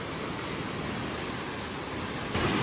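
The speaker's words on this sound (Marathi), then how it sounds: "आणि हा आमचा झनीत वॉटरफॉल" Steady broadband rush of flowing water from Zenith waterfall at Khopoli during monsoon, continuous and fairly loud with no talk, growing slightly stronger near the end.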